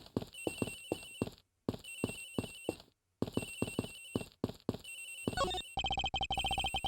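A cell phone ringtone in the Ace Attorney Investigations video game plays as a lullaby-like melody in repeated bursts with short gaps, then shifts into a rapid, steady electronic trill at the end.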